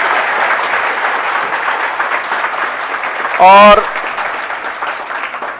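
An audience at a motivational talk in Barmer gives thunderous applause, dense continuous clapping throughout with a single short spoken word near the middle.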